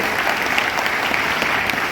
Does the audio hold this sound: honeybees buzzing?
no